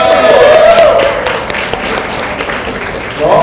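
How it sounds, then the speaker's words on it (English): At an association's official launch, an audience claps together in a short burst of broadband applause with some voices over it, fairly loud and steady before tapering slightly. "We're all clapping now"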